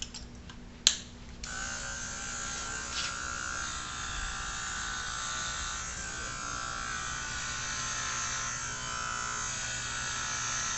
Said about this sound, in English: I'll be using my Andis Easy Style with my 3/8 attachment.